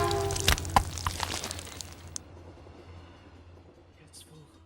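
A train rolls through a Team Fortress 2 train yard in the video game, a loud rumbling clatter with sharp cracks that fades away over several seconds while a voice talks over it.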